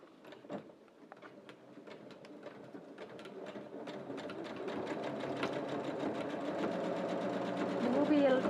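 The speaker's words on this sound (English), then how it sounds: "Okay, so now we're going to go to the sewing machine." A sewing machine runs steadily through woollen scarf fabric, its rapid stitching growing louder and denser over several seconds, with a few sharp clicks at the start.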